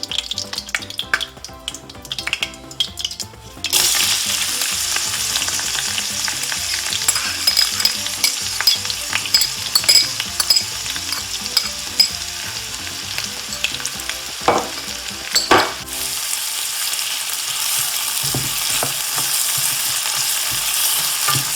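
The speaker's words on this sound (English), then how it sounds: "my butter is sizzling in that olive oil" Butter sizzles loudly in hot oil, a dense steady crackling hiss close by, with occasional stirring clinks and a brief quieter gap near the end.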